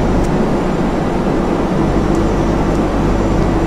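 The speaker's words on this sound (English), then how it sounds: "There goes our engine roll back." Simulated Boeing 747 engines spool down in Flight Simulator X, a steady loud low rumble and broadband roar holding evenly throughout with no talk.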